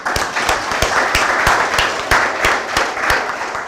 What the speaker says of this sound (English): I think we can give another round of applause.